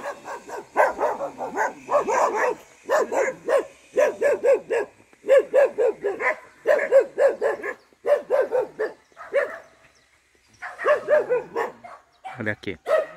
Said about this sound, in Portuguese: Tem cachorro mesmo.